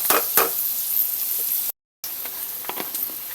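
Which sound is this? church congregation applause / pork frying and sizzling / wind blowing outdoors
pork frying and sizzling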